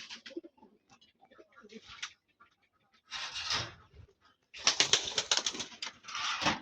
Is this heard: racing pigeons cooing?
yes